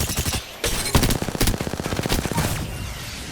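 Rapid automatic gunfire from hipfiring in a video game: a fast, regular string of sharp shots, loud and close, in two bursts split by a short gap, with a tight rhythmic rattle.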